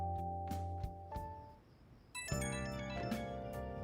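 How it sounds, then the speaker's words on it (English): Phone ringtone in the video game Persona 5 Royal, a soft tonal melody of repeated chiming notes with a short pause midway, fairly quiet over game music, no speech. "And my phone's ringing."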